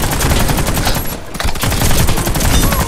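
Machine gun fire in a shooter video game rattles in loud, continuous bursts, breaking off briefly in the middle before the rapid shots resume.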